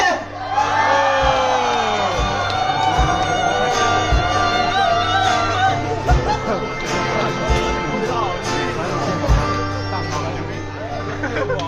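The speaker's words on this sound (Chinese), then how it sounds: "让我听到你们呼喊声！" An audience at a campus singing contest shouts and cheers in a loud, continuous roar with whoops, while amplified voices and music carry over the crowd noise.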